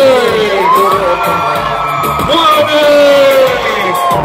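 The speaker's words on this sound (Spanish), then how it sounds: "Quiero que desde ahora me den un fuerte aplauso a" A lively crowd at The Mall of San Juan, Puerto Rico, cheers and whoops loudly for the singer, with shouts and yells layered over continuous crowd noise and a voice carrying on top throughout.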